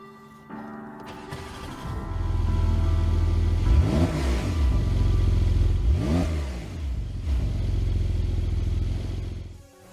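A 2020 Porsche 911 Carrera S (992) engine with a particulate filter starts, then revs hard several times, rising and falling in pitch before settling back to a steady idle.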